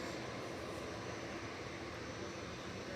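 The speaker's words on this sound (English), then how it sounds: "Got a noisy prop taxiing out to us." A noisy propeller aircraft taxis at Manchester Airport, a steady broadband engine drone, fairly faint and continuous, with no talk.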